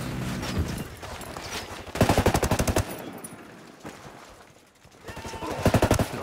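Automatic gunfire in the video game Ghost Recon Wildlands, aimed at cartel enemies: several rapid bursts of rattling shots, loud and close, separated by brief lulls filled with ambient game noise.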